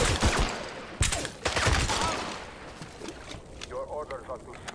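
Gunfire in the James Bond 007: Blood Stone video game, a burst of sharp shots and rapid fire with a shouted voice among them, easing into quieter background sounds.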